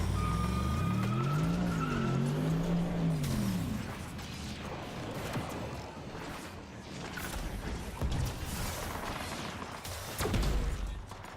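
A Mercedes SLR supercar with an American-style V8 roars close by, its engine note rising and falling through revs before giving way to rougher driving noise, tire sounds and bumps.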